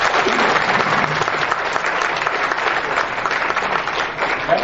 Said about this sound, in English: Let me give some applause for the speakers.